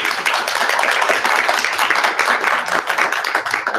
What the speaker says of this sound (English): If you guys give a round of applause.